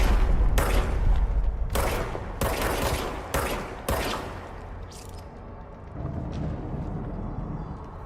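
Gunfire in the video game Control: a string of loud, punchy shots in an uneven rhythm, each a sharp boom with a short decaying tail, close and dominant, followed by a quieter stretch of low rumble.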